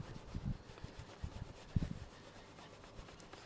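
Wire wool soaked in WD-40 scrubs a motorcycle shock absorber in quick, faint rubbing bursts close by, busier in the first two seconds and then thinning out, with no talk.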